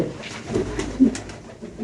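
Gorra pigeons at a pigeon market give soft, low coos close by, a few short murmuring calls over background hum.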